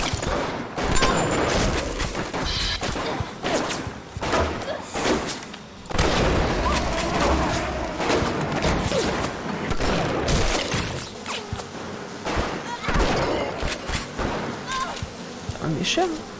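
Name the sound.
gunfire in BioShock video game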